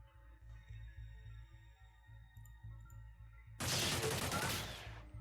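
A railgun fires in the video game Xenonauts, a sudden loud burst of crackling blast noise after a stretch of quiet pulsing game ambience, lasting to the end.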